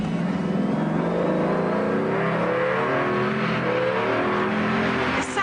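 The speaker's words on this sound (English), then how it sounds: "How does a V12 engine with 575 brake horsepower sound? Like this." A powerful V12 engine of 575 brake horsepower revs hard and continuously, its pitch climbing through the gears, loud and close.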